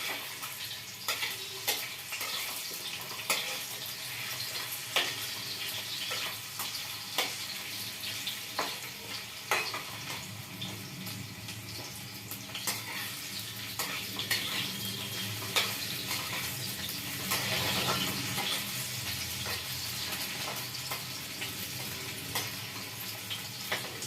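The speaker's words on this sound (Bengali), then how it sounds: "অল্প একটু ভাজা করে আমি তুলে নেবো" Young jackfruit fries in a pan with oil for curry, a steady sizzle broken by repeated clicks and scrapes of stirring, close and moderately loud throughout.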